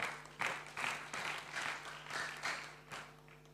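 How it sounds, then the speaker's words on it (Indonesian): Audience applause during an Indonesian investment talk event, several bursts of clapping that swell and ease in a loose rhythm, moderately loud and close, with no talking over it. "Tepuk tangan buat Melody teman-teman."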